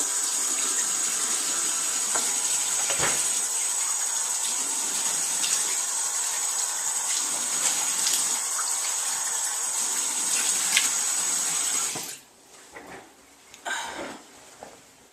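Running tap water splashes steadily for about twelve seconds as a face is rinsed at a sink, then cuts off, leaving faint drips and small splashes near the close.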